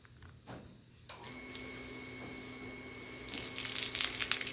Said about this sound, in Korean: 난을 깨우는 첫 번째는 이제 물주기입니다.